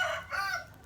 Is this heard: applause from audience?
no